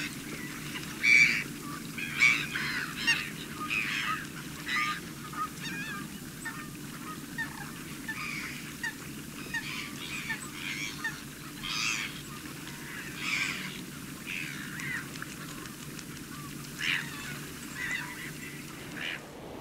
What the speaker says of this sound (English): I spotted a group of brent geese down on the waterfront